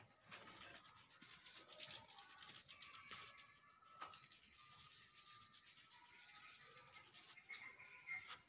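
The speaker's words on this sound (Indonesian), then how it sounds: "suara burung" Birds call inside a ground-floor building space: faint chirps and soft coos, like pigeons or doves, come and go over a steady ambient hiss, with no talking.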